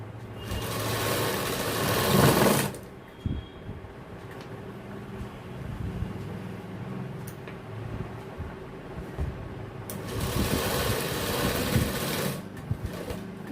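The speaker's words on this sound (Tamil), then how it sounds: "மடக்கி இப்போ தையல் வந்து கரெக்டாக இப்போ போகுது." A tailor's sewing machine stitches the lining along the belt edge of men's trousers in a shop, running in two steady whirring bursts at the start and end with a quieter pause between.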